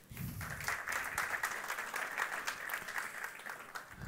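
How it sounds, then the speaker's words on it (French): Audience applause at a French-language talk in a planetarium, steady clapping from a crowd that holds an even level for several seconds with no voices over it. "Merci de l'applaudir."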